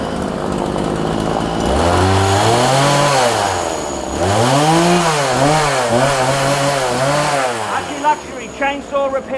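A Ryobi RCS4240NB chainsaw roars loudly up close, revving up and down in repeated surges before sputtering out into choppy idling near the end.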